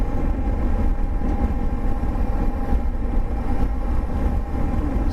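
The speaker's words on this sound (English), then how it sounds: "another great thing about commuting on the V-strom, or any motorcycle really" A Suzuki V-Strom motorcycle rides along on a desert mountain commute, with a loud, steady engine drone and heavy wind rumble throughout.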